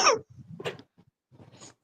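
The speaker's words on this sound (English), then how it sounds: "I was coughing." Several close, loud coughs from one person, a sharp burst followed by a second hack and a smaller trailing cough after a short pause, with no talk over them.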